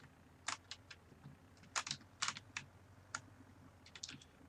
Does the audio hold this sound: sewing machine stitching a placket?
no